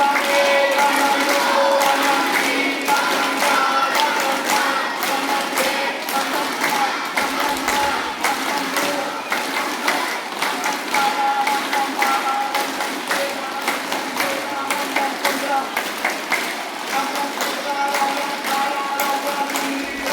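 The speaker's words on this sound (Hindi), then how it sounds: "राम के नाम का ताली वादन" Schoolchildren at a public school clap together in a sharp, regular rhythm, many hands striking in unison for a sustained stretch, loud and close, with occasional voices mixed in.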